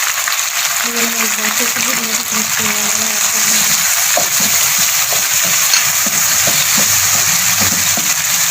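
Chicken Manchurian sautés in a pan with chili sauce, giving a steady close hiss of frying with scattered utensil clinks and scrapes, while a voice talks over the first couple of seconds.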